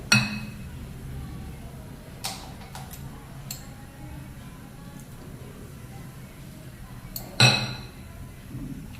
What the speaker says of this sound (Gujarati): હવે બધું મિક્સ કરી દેવાનું.